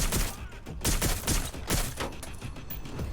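Gunfire in Watch Dogs Legion, a rapid spray of shots in dense bursts with short gaps, loud and steady throughout.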